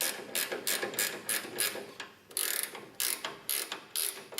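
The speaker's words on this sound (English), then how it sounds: "top one I'm going to get away with the ratchet" A hand ratchet tightens a bolt in a series of sharp clicking bursts, each a short rapid run of pawl clicks. About a dozen bursts repeat at a steady rhythm. They are close and clear, with no talk.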